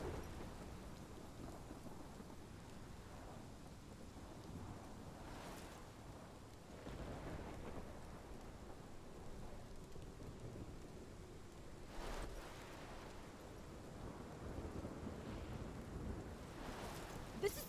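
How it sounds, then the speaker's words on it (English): Thunderstorm with steady rain in the video game Life is Strange, with a continuous rain wash and several rolling thunder rumbles spread through it, no talk. "This is my storm."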